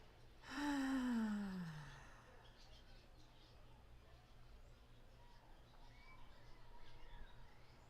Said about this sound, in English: So let's take a deep breath in.